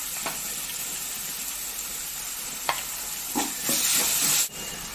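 Onion, tomato and ginger-garlic paste frying in hot oil, a steady close sizzle with a few stirring scrapes and a louder hiss near the end.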